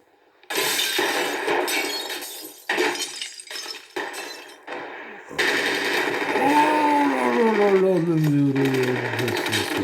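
In a film scene, window glass is smashed with a pistol butt: a loud crash with scattered shattering and clinking fragments comes near the start, close and harsh, followed by a voice speaking over continuing background sound.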